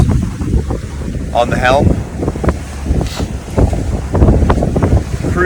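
A sailboat motors under engine at about 1700 RPM with no sails up in roughly 11 knots of wind on the Sea of Cortez, a low steady drone mixed with gusty wind buffeting and water rush while a person speaks over it.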